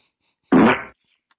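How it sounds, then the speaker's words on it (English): A loud, wet fart sound plays back once, lasting about half a second, close up and isolated against silence. "Go back to that wet fart"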